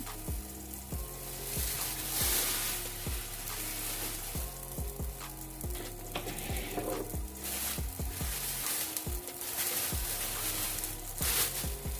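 Makki ki roti cooks on an oiled tawa with a steady, close sizzle and crackle of oil that runs throughout, over a faint tonal hum in the background.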